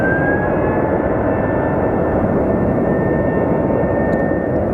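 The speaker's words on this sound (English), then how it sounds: "Let's catch this plane as it departs." Passenger jet departing Sky Harbor Airport on a Bakersfield flight, a loud, continuous engine roar with a steady high whine, unbroken for the whole stretch and no voices.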